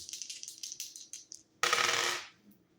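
Dice rattle in a quick series of small clicks, then a sharper, denser clatter as they come to rest, close and fairly quiet with no other sound around them.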